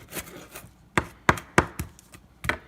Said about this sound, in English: So when you cut, you got to do rock the knife out like this